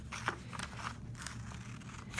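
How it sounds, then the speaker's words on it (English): Scissors cutting paper to make a 3-D paper snowflake, several quiet snips and crisp paper crunches spaced irregularly, close but faint, with no talking. "you're going to want to cut along that line with your scissors"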